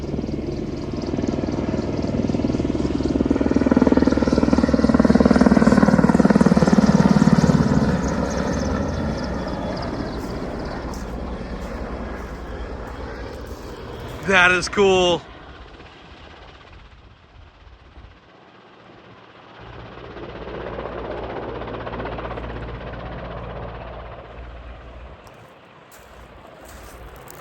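A Canadian Coast Guard helicopter passes overhead: a broad rotor and engine roar builds from the distance and peaks loud in the first half, then a brief sharp burst and a fainter rumble later, with a short spoken remark.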